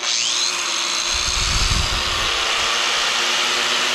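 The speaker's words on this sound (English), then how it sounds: "we can grind" A small battery-powered grinder runs steadily outdoors at an off-grid homestead, a continuous loud whine holding level throughout with a brief low rumble in the middle.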